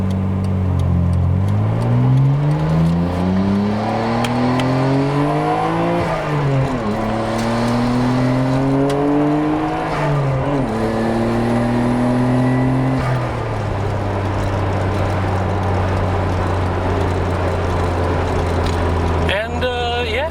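A silver Nissan Skyline GT-R R33 drives at an auto expo, its engine droning steadily with rising and falling pitch as it accelerates and shifts gears, close and loud throughout, with a voice talking over it.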